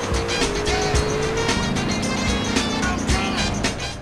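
A car driving in Grand Theft Auto San Andreas, its engine droning steadily and loudly throughout, with a shifting tone and a rumbling low end. No one speaks.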